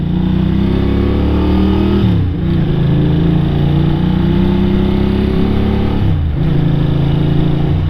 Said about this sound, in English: I love riding this bike already